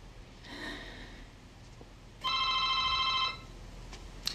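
A telephone rings twice indoors, first a brief faint trill, then a louder, longer electronic ring of about a second, with quiet room tone around it.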